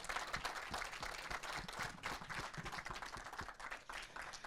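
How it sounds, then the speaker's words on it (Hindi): An audience at a film festival conversation session gives continuous applause, a dense wash of many hands clapping throughout, moderately loud with no voices above it. "इनके लिए ज़ोरदार तालियां बहुत ज़रूरी।"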